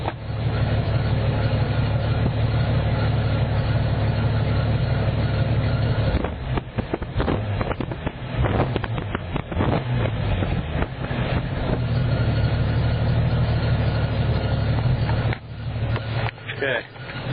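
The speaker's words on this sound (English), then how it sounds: "There's the exhaust." A Jeep Cherokee engine idles with a loud, steady exhaust rumble close to the microphone, broken by wind buffeting and handling noise partway through.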